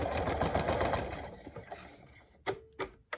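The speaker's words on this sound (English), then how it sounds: "I'm going to sew right along that line. I'm going to sew right out into the seam allowance." A sewing machine runs in a quick burst of stitching along a paper piecing line, its whirring fading, then a few short separate clicks and thumps follow near the end.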